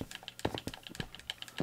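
Rapid, light plastic clicks of an X button being tapped on a game controller during Minecraft play, a quick irregular run of close, crisp taps with no voices.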